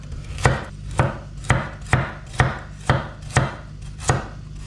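A knife chops through food on a board in a steady rhythm, about eight crisp cuts evenly spaced, close and clear with no talking.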